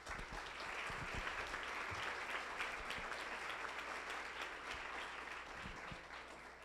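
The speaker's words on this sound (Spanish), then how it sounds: "por lo que yo pido un aplauso para ellos" Sustained applause for doctors at a panel talk on medicine, a dense audience clapping that swells and holds steadily before easing slightly, with a few louder claps near the front.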